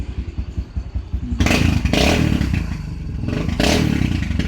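A motorcycle engine runs close by, rumbling steadily and then swelling into louder revs with a clattering, rough edge before easing and rising again.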